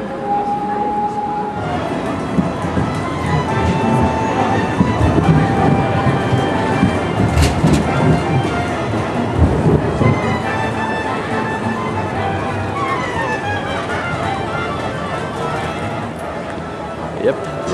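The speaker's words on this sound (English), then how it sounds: "Rush hour in Leidsestraat. Tram after tram after tram." Trams rumble and squeal past one after another on Leidsestraat in Amsterdam at rush hour, with steady traffic noise and someone talking over them.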